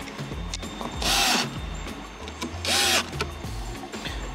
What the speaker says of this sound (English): the cover goes on. And I can go ahead and screw that in.